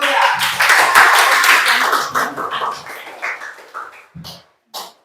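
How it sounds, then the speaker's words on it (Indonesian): Applause in a school classroom for a student group, brisk clapping that starts full and thins into scattered claps and a couple of final isolated hits. "Beri tepuk tangan untuk kelompok 3."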